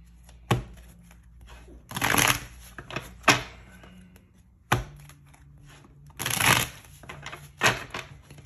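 Tarot cards riffled and shuffled by hand, several short crisp bursts of shuffling between sharp taps and card handling, close and fairly quiet, with no voice over it.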